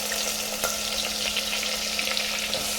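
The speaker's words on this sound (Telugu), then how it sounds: "Oil heat ఎక్కిపోయింది. ఆనియన్స్ వేసేద్దాం." Onions frying in hot oil for keema curry, a steady, dense sizzle with crackling pops, close and loud, continuous throughout with no talking.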